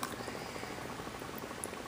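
Dry ice fizzes and bubbles in a glass of Pepsi, giving a steady close seething hiss with small popping bursts, fairly quiet and without talk.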